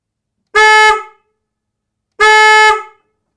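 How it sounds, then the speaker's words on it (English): Two loud, low-pitched blasts from a Denali Soundbomb Mini horn on a Triumph Tiger 900 motorcycle, each lasting about half a second and separated by a pause, sharp and close. "let's go ahead and get our first impression of the Soundbomb Mini Horn"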